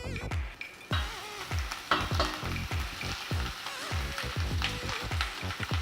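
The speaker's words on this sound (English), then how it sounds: "Okay, pan fry this." Tempeh pieces fry in one to two tablespoons of oil in a pan over high heat, giving a steady close sizzle broken by repeated scraping and stirring strokes.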